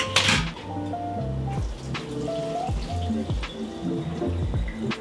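Water dripping and splashing as cooked cauliflower is drained, close irregular drips and small pours continuing throughout with faint kitchen clatter.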